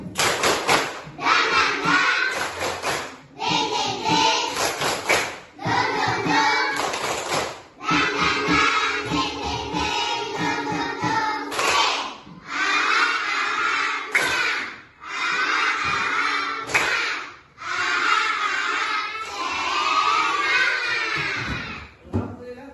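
Classroom pupils perform the tepuk semangat spirit clap, chanting together in loud bursts punctuated by rhythmic group claps, with brief pauses between phrases.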